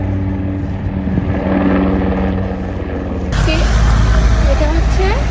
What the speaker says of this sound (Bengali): কিছুক্ষণ পরপরই এরকম অবজারভেশন হেলিকপ্টার